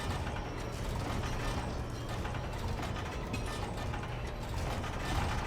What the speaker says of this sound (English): Why is this such a long elevator ride?